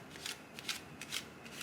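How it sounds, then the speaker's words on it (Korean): A deck of playing cards being overhand shuffled by hand, giving four soft, quick riffling bursts at a steady rhythm, close and fairly quiet with no talking. "그 다음에 나머지를 셔플을 해주는 겁니다"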